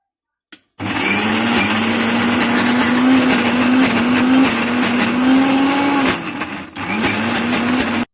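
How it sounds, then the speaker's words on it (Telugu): A kitchen mixer grinder whirs loudly as it grinds soaked tamarind, sesame seeds and coconut into a paste. It runs at a steady high pitch and briefly cuts out and restarts near the end. "ఇది మిక్సీ పట్టుకోవాలి."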